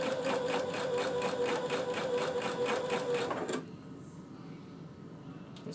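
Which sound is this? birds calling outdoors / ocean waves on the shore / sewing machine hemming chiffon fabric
sewing machine hemming chiffon fabric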